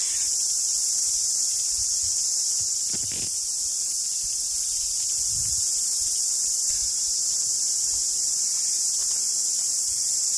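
Cicadas in a New Zealand forest on Mt Aubrey fill the air with a loud, unbroken high-pitched drone, steady throughout with faint rustles beneath.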